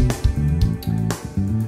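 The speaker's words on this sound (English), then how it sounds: "So here's the backing track." A guitar backing track in A Dorian plays a rhythmic pattern of short, punchy low chords and notes with a steady groove, up close and without voices.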